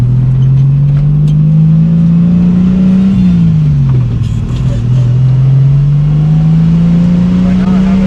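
A Datsun 240Z with an RB engine drives along with a loud, steady engine drone that climbs, dips briefly and rises again as it revs through the gears, heard up close from inside.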